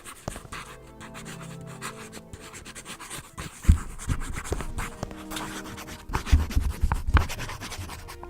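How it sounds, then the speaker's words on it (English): Pen scratching across a page of paper in The Journeyman Project: Pegasus Prime, a close, dry rustle of strokes with a few louder scrapes near the end, heard alone. "let me go ahead and find a page I don't mind drawing on."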